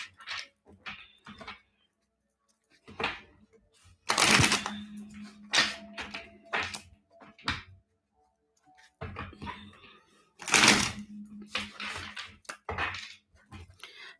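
Several bursts of riffling tarot card shuffles, close and crisp, separated by quiet pauses and soft handling taps.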